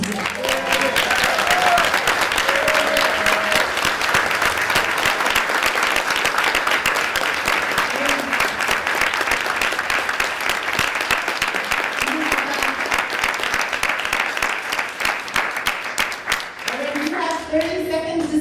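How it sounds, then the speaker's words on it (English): Long, steady round of applause from an audience at a Q&A after inmates performed Shakespeare's Twelfth Night at San Quentin Prison, dense clapping that holds strong for many seconds, with scattered voices and brief speech fragments underneath, thinning toward the end. "I would love to give him a round of applause."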